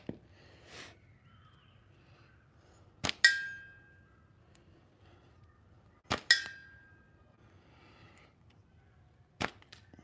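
Three slingshot shots at a big target during distance shooting practice, each a sharp crack followed closely by a ringing metallic clang, spaced about three seconds apart against quiet outdoor background.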